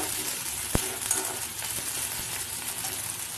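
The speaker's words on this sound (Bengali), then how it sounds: "আলু, পেঁয়াজ আর কাঁচা লঙ্কাটা ভালো করে ভাজা হয়ে গেছিলো" Steady sizzling of potato, onion and green chili frying in a pan, close and even, with a single sharp metallic clink early on and no talking.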